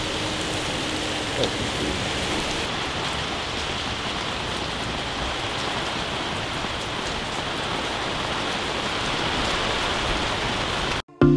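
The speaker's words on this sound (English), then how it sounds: "the rain has calmed down" Steady rain falling on surfaces, a dense, even hiss of droplets that holds at moderate loudness for the whole stretch before cutting off abruptly at the end.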